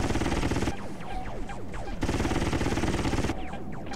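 Rapid gunfire in the video game G Police, dense bursts of automatic shots with descending whooshing weapon effects, loud and continuous in two long volleys separated by brief lulls.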